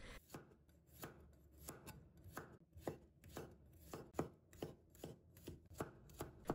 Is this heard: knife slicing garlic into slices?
yes